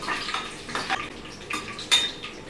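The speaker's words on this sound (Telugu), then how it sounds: "ఇదిగోండి వేరుశనగకాయ గుళ్ళు వేసి వేయించుకుందాం. చిటాపటా వేగిపోతాయి." Peanuts frying in a pan while roasting for mango muntha masala: irregular close crackles and pops over a soft, steady sizzle, with no talking.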